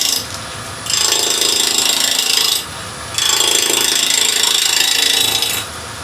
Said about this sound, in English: I'm going to take the first ghosting until we meet the second one. I'm just going to use a 1/2 inch spindle gouge just to do that.